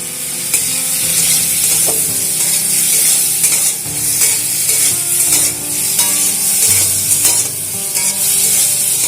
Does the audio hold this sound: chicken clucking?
no